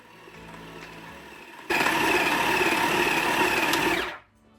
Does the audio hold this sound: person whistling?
no